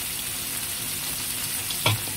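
Garlic, onion, tomato and shrimp paste sautéing in a pan for chicken binagoongan, a steady close sizzle with a brief louder hiss near the end and no talking.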